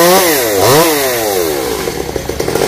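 A chainsaw cuts branches high in a tall Sao tree in the Mekong Delta countryside, its loud engine rising and falling in pitch as the blade bites, then settling into a steady, rattling drone.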